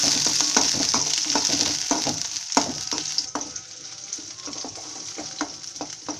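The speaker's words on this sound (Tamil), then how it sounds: "இப்போ இதை வந்து நம்ம கொஞ்சம் வதக்கிடலாம்." Small onions, garlic and ginger sizzle steadily as they are stirred and fried in a pan for chutney, with irregular scraping taps of a spoon against the pan throughout.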